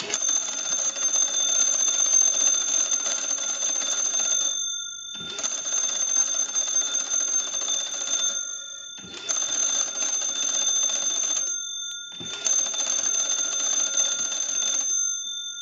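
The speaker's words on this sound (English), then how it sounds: "we'll go ahead and crank the magneto and ring the original bells" An original magneto-cranked bell ringer on an old Cracraft Leich wooden wall telephone rings loudly and close in four long bursts separated by short pauses, with a bright, steady metallic jangle and no voices.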